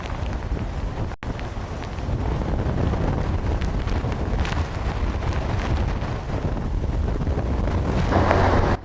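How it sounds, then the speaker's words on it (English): Hurricane Charley, a Category 4 storm in Florida in 2004, with wind picking up fast, loud roaring gusts buffeting the microphone in a constant heavy rumble that grows stronger. "Now with the wind starting to pick up rapidly"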